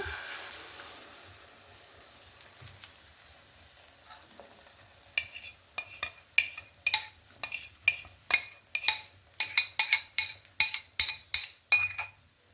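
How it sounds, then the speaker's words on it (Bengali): Egg and cabbage batter poured into hot oil in a pan: quiet at first, then loud rhythmic spoon scrapes and clinks over a sizzle as the mixture is spread evenly. "তেলটা এখানে সুন্দরভাবে গরম হয়ে গেছে এবার আমি এই ডিমের মিশ্রণটা এখানে দিয়ে দেব"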